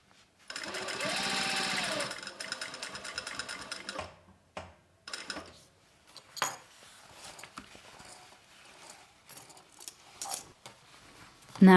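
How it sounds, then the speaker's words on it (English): A sewing machine runs a straight stitch through soft shell fabric for a tarot card case, a loud burst of rapid whirring at first, then scattered clicks and handling taps. "So you are going to sew here with straight stitch to the point, to the mark that is on the pattern."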